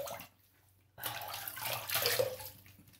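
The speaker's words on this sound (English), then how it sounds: "let's rinse up." Running water for rinsing after a shave: near-silence for about a second, then a tap or stream of water starts and runs steadily, with no voices.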